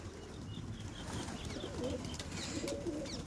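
Pigeons coo softly outdoors on a cold, foggy winter morning, low murmuring calls over a steady wash of background noise, with faint rustles and possible wing flutters, fairly distant and quiet.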